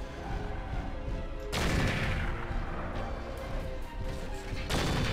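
Mech weapons fire in MechWarrior 4, a dense loud barrage of impacts and blasts with two sudden heavy surges of fire, and no talking.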